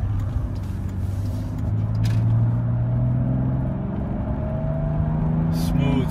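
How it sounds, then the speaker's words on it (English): A 1995 Mercedes-Benz E320 with a straight-six engine accelerates, its engine note rising steadily through the gears under road rumble, heard from inside the car. "Once I get a break in this traffic, I'll show you how it accelerates."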